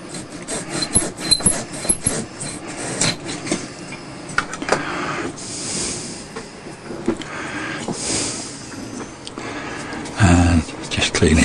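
Hand sawing through wood for a model airplane's horizontal stabilizer, a rough rasping stroke repeated over and over, close by, with a few louder bursts toward the end.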